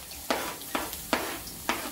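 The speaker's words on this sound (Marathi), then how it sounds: "त्यामध्ये आता 2 मी कापलेले कांदे यामध्ये घालत आहे" Chopped onions fry in a spoonful of hot oil in a kadai, a steady sizzle broken by four sharp scraping stirs of a spoon at a regular pace, close by with no voices.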